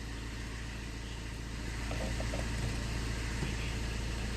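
A used Fiat with a 1.3 Multijet engine idles just after a slow start, giving a steady, low, even hum up close with no voices.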